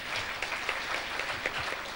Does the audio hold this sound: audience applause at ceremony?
yes